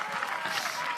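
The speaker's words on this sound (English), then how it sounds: "gets big applause from the crowd" A crowd applauds steadily at a pickleball match, with dense, even clapping heard from a moderate distance for about a second.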